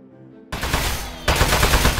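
Automatic gunfire in the video game Aperture Desk Job, loud, dense rapid bursts that start abruptly after a quiet moment and intensify partway through, filling the whole clip.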